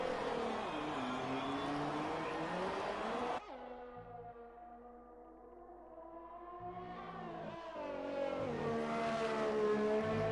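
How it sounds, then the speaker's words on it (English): A Ferrari race car roars through, its engine note sweeping down as it passes. After a quieter gap, another engine rises and climbs in pitch, all with no voices over it. "As there comes the Ferrari of Lucas"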